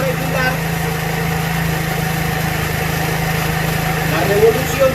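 A motorcycle engine idles steadily while the carburetor's idle screw is adjusted, producing a continuous, even mid-pitched hum that stays close and constant, swelling slightly near the end.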